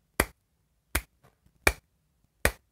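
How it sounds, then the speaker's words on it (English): Single audience member clapping after a stage performance: four sharp, isolated claps spaced evenly about three-quarters of a second apart in an otherwise silent room. "that one person for a sympathy clap"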